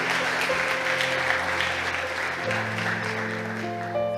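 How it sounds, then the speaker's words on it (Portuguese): A church congregation applauds at a service, a continuous wash of clapping with sustained organ or keyboard chords playing underneath. "Aplauda ao Senhor pela vida deles."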